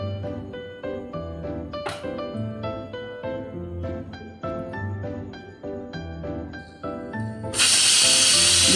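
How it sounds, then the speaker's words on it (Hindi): A pressure cooker of potatoes and peas with salt and turmeric lets out a sudden loud, steady hiss of steam near the end, following a stretch of plucked, tuneful background music. "दुईटा सीटी पर प्रेशर कुकर ओल्हे दबा।"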